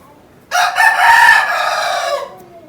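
A Multan Aseel rooster gives one loud, close crow, a long rising and falling call of about two seconds, with no talking over it.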